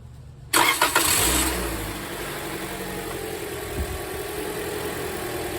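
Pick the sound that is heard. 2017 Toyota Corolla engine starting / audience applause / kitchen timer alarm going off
2017 Toyota Corolla engine starting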